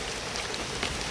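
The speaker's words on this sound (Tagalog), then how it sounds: "At nasa lubong po namin yung malakas na ulan." Heavy rain pours down outdoors during a hike, a steady dense hiss of drops with no speech, close and constant for about a second.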